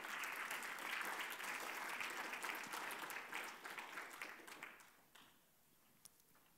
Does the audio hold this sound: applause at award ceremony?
yes